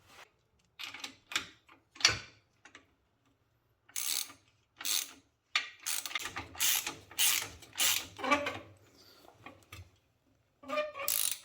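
Ratchet wrench tightening bolts on a locomotive jackshaft in a repair shop, with close, rapid clicking bursts separated by short pauses.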